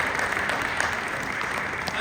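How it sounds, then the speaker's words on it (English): An audience claps in a dense, continuous patter of many hands at moderate distance, with voices talking over it. "surprised anybody clapped."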